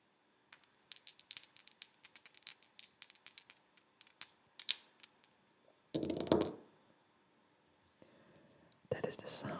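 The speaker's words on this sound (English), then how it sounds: "That is the sound of playing dice." Dice rattled and clicked close up in a quiet ASMR setting, with a run of small sharp taps followed by a few louder bursts of tumbling. Soft whispering is heard.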